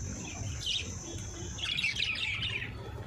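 Budgerigars chirp in quick, high twittering bursts, close by, with a steady low background hum underneath and no voices.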